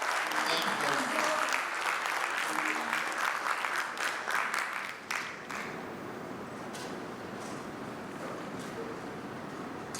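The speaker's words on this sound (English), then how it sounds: "Please, a round of applause for our bank." An audience claps loudly at the Polaris Bank VULTe app launch event, with thick, continuous applause that thins out about halfway and then trails off into lighter clapping and room noise.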